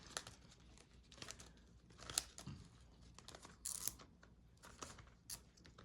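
Close, quiet crinkling and rustling of a stiff plastic zipper envelope being worked open, with scattered sharp crackles and small tugs.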